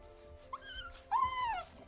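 A dog whimpers close by, two high whining cries, the second longer and drawn out with a falling pitch, heard alone.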